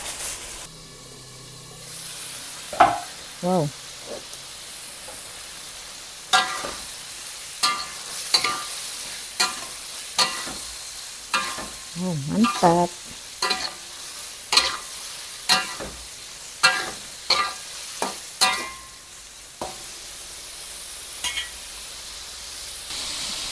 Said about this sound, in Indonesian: Saya nak goreng tahu dulu kawan-kawan.